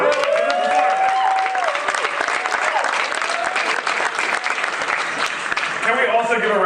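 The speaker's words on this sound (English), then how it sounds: "Can we also give a round of applause to the matching outfits that they have?" An audience at a startup pitch event bursts into loud, dense applause mixed with whoops and cheering voices, sustained throughout before a voice returns at the end.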